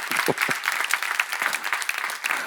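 Church congregation at a seminar service claps briefly in response to the pastor, a short burst of scattered hand claps with a few sharp individual slaps standing out, fairly soft and thinning toward the end.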